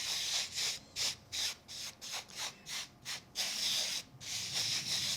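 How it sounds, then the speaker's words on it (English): A rub it scrub it tool pushed back and forth over gilded vellum onto exposed die adhesive, producing quick, close scratchy rubbing strokes in a fast rhythmic series, about a dozen bursts. "use the rub it, scrub it to kind of push that into all that exposed adhesive"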